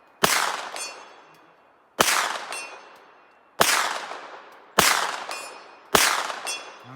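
Five sharp pistol-caliber carbine shots ring out at a steady spaced rhythm, each crack followed by a bright metallic clang from a steel target 100 yards downrange. The ringing tails decay quickly between shots, with no talking.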